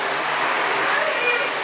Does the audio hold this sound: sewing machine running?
no